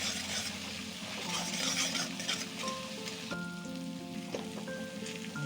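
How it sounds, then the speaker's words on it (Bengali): Hot water poured into spice paste frying in a pan for a vegetarian Bengali dish sets off a loud, steady sizzle and bubbling crackle, with faint clinks from stirring. "মশলাটা যাতে পুড়ে না যায় সেই জন্য অল্প একটু গরম জল দিয়ে দিচ্ছি।"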